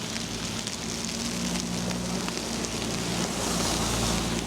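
Steady rain falls on a snow-covered, salted street at night in South River, New Jersey, a constant close hiss with a low traffic rumble running underneath.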